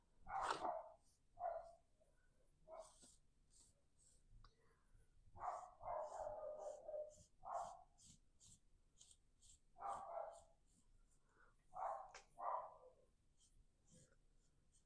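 A small dog barks in short, fairly faint bursts, some single and some doubled, spread over several seconds with quiet gaps and soft scratchy sounds between them.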